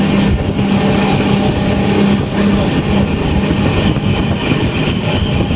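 A fast-moving train on a journey from Kollam to Bangalore, with a steady loud rumble and rail noise that runs unbroken, and faint clickety-clack from the wheels.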